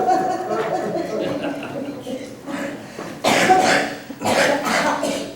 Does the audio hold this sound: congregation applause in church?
no